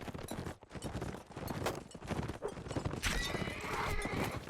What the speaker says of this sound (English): They're now shooting at the horses dismounted on that flag.